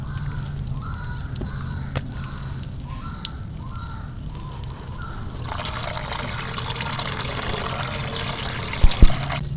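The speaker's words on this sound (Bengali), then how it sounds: "দেখো, এইভাবে সমস্ত জলটা ধুয়ে ধুয়ে ফেলতে হবে, বারবার ধুতে হবে যতক্ষণ না এটা একদম সাদা ঝকঝকে হয়ে যায়।" Water rinses flour dough in a steady running trickle that grows louder and broader about halfway through, while crows caw repeatedly in the background.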